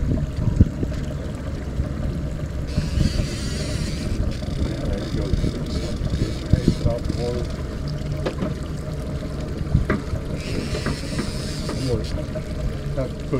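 A fishing boat's engine churns low and steady with water and wind noise throughout, the motor rumbling as the craft reverses slowly to free a snagged line.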